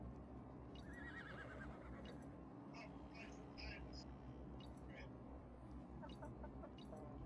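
A horse neighs in a video game, a faint whinny heard low in the mix under steady game background noise.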